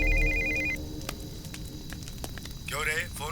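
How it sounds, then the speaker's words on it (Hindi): A telephone rings in short bursts within a tense police scene, a steady electronic trill near the start, followed by a voice speaking urgently over background noise. "Sir phone sir."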